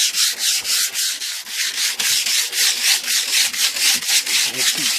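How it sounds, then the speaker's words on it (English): Sandpaper rubbed by hand over the body of an 88 Cadillac DeVille, steady back-and-forth strokes in an even rhythm, close and loud with no talk. "Just keep sanding and sanding it till you get it smooth as you can."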